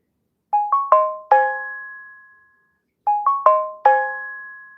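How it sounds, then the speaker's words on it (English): A new phone plays its notification alert twice, each a quick rising run of four bright chime tones whose last note rings out and fades, separated by a short silence. "that's my new phone making all that sound. You guys hear those alerts?"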